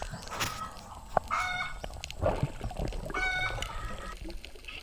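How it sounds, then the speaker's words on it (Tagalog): Several chickens cluck in a noisy yard, with short crowing calls rising over the busy, continuous flock chatter. "Ang iingay ng manok guys."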